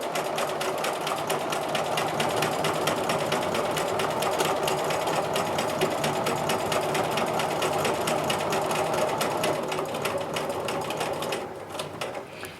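A sewing machine stitches a diamond grid on a quilt, a fast, even mechanical chatter running steadily and close for most of the stretch before slowing and stopping near the end.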